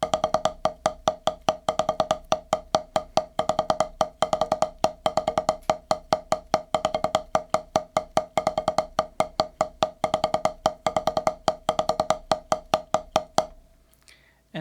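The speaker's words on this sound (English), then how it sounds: "now we're going to do those 32nd notes as double strokes" Fast 32nd-note double strokes on a drum in a hand-speed finger-control exercise, a dense, even stream of crisp hits continuing for most of the passage and stopping just before the end, with no talking.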